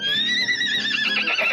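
A horse gives one loud, close, high whinny that wavers and trails off over about a second and a half, heard alone.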